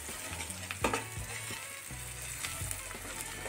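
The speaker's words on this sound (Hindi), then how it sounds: "ये लाल मिर्च और गरम मसाला, और इसे हम अच्छे से एक मिनट तक और भून लेंगे" Red chilli and garam masala fry for egg bhurji in a pan, a loud, continuous close sizzle with a few stirring knocks and scrapes early on.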